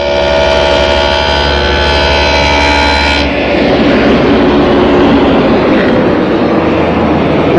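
A dado cutter on a table saw with a sacrificial fence cuts a rabbet along the bottom of an upper cabinet side panel, starting as a loud steady motor whine that turns to a rougher, louder cutting roar.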